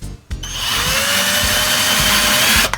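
A power drill bores into wood for a DIY coat rack: a short burst, a pause, then a sustained whining spin with a slowly rising pitch, loud and close.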